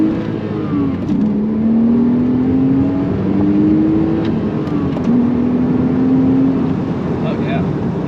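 A Porsche 987 Cayman S with manual gearbox revs up through the gears with steady rising pitch sweeps, loud and close, as it accelerates hard from a stop.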